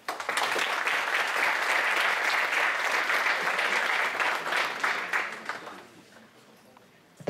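An audience at a finance conference on futures trading applauds a speaker, a loud sustained burst of many hands clapping for about five seconds before fading to a few scattered claps.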